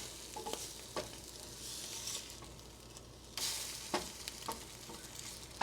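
An egg frying in a hot pan for a quick breakfast, a steady close sizzle throughout with a few sharper crackles and spits.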